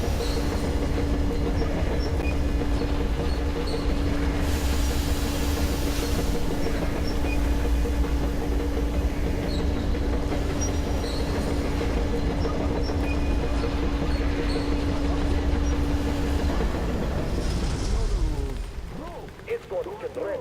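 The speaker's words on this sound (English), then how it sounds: "Attention! The turntable is switching on." A railway turntable starts up in the Metro Exodus game, a heavy mechanical rumble with a sustained hum and clanking rail sounds that runs for most of the stretch before cutting out near the end, with a voice speaking over it.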